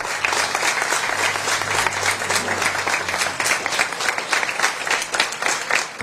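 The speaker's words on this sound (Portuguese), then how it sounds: "Todos foram recebidos com aplausos." Sustained applause from a crowd, dense and even throughout, with clapping filling the scene and no talking.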